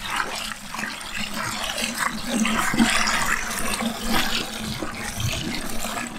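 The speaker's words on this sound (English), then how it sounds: "Now I'm going to add some water." Water runs steadily into a container of crushed, broken-up seeds being prepared for seed sorting, a continuous close splashing wash with no talk over it.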